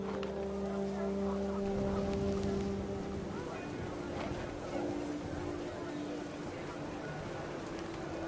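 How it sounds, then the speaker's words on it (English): Panicked geese honk in the video game What Remains of Edith Finch, a cluster of tonal calls mixed with wind and game ambience, with a steady low drone running underneath. "panicked geese appeared and quickly went"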